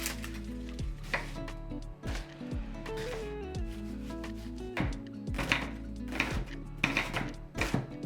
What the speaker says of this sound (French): Tu viens prendre un oignon, tu viens le découper le plus finement possible et tu réserves.